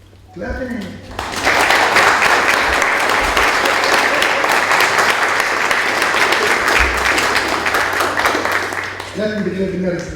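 Wedding guests at a Nikah ceremony break into sustained applause, a dense wash of clapping that swells after a brief voice and holds steady for about eight seconds before tailing off as talk resumes.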